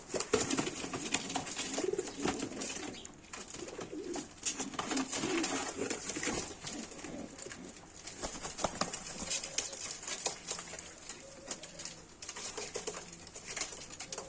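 Pigeons, including a Jumbo breed bird, coo softly amid faint rustling and fluttering, with a continuous low background hiss; the calls are quiet and indistinct.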